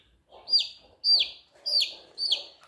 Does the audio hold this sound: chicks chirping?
yes